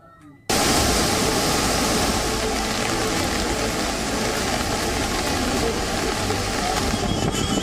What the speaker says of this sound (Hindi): जहां पर नदी का उफान देखने को मिल रहा है।